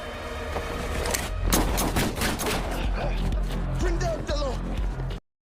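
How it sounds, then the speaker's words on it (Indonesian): A gunfire exchange from a John Wick film, rapid loud shots crackling in dense bursts for several seconds under a voice speaking over the action, then cutting abruptly to silence. "terjadi sedikit baku tembak di antara mereka"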